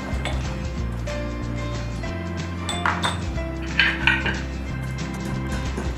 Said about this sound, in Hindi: अब हम मिर्च कूट लेते हैं।